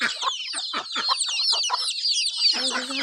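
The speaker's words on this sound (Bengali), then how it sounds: "তো এই হচ্ছে আমাদের মুরগির বাচ্চাগুলো।" Chickens and young chicks clucking and peeping close by, a busy run of short chattering calls and high cheeps, ending with a longer drawn-out hen call.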